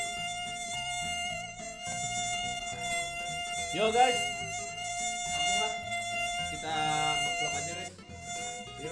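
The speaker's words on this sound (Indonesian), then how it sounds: "suara nyamuk lagi" Thin, high mosquito whine near the microphone during a morning livestream, a faint wavering buzz layered under steady background music with a brief spoken greeting.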